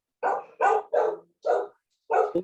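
Five sharp dog barks ring out close and clear in an uneven rhythm, with quiet gaps between them and no voices.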